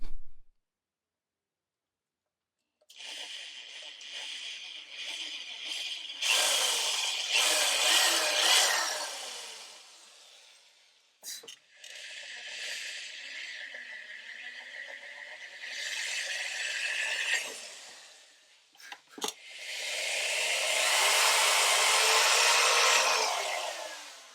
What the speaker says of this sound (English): So now what I'm going to do is just go ahead and drill my pilot holes